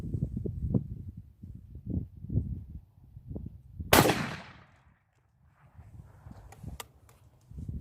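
A single sharp, loud blast from a single-shot shotgun firing steel shot rounds cracks once mid-clip and fades, surrounded by quieter handling noises and soft rustling before and after.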